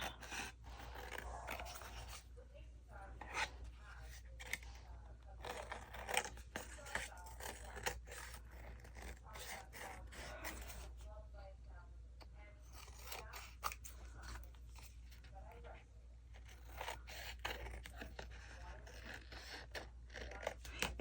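Scissors trim paper scraps for a journal: close, quiet snipping and crisp paper crunches repeat in irregular bursts, with rustling and scraping between cuts and no speech.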